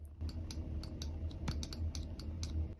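Computer keyboard typing in a steady run of sharp, close key clicks, irregular in rhythm, over a low constant hum with no voices.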